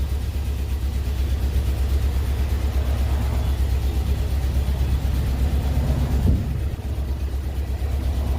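A 2003 Chevrolet truck with a 6.0L engine runs at idle with a misfire, a loud close low rumble with uneven pulsing and a slight stumble near the end.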